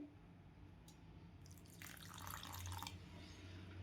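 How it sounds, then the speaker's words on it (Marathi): More water is poured from a vessel into fasting bhaji batter of rajgira flour, a close gurgling splash running about a second and a half over a low kitchen hum. "थोडं आणखीन पाणी पाहिजे"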